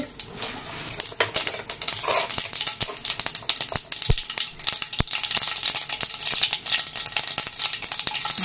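Mustard seeds and urad dal tempering in hot oil in a nonstick pan, with busy sizzling and sharp crackling pops as the seeds burst, close and continuous with no talk.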